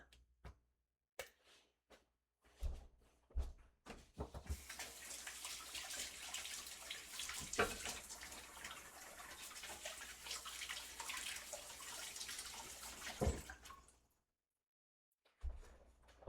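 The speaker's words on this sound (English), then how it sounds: "we have mushrooms here that have not been rinsed, so we should probably do that" Tap water runs steadily for about nine seconds to rinse mushrooms for quinoa and sausage stuffed peppers, preceded by a few brief knocks and clicks; no one talks.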